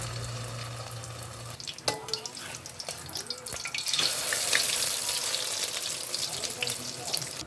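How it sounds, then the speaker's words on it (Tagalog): Small anchovies (dilis or dulong) frying in a pan, with a steady sizzle that swells louder after they are stirred and clattered around partway through. "Umpisahan na natin ang pagluluto ng ating dilis or dulong."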